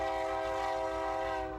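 A train sounds a loud sustained horn, one steady chord-like blast close by that holds and then begins to fade, over a low rumble of the passing rail cars.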